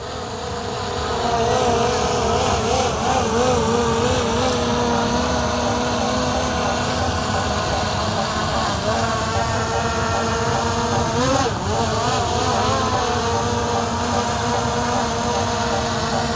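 A SkyRover S1 mini drone flies nearby with a continuous high, buzzing whine of its small propellers, steady and loud throughout with slight pitch wobbles as it maneuvers.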